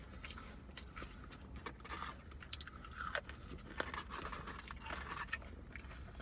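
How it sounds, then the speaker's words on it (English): Crispy, cold, dense fries are chewed close up, with repeated crunchy bites and mouth noises in a quiet setting and no talking. "I'm eating my fries really fast because these fries get really, like, crispy and cold and dense."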